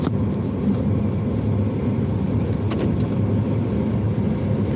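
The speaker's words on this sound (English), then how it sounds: "Gotta turn my car around right quick." A car maneuvers through a turnaround with a steady low engine rumble and road noise, running continuously and fairly close with no talk.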